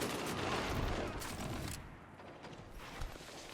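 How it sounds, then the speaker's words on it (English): Sustained machine gun fire in a video game rattles at moderate volume, with a steady stream of shots that thins briefly before a sharper burst near the end. "he's going to machine gun me"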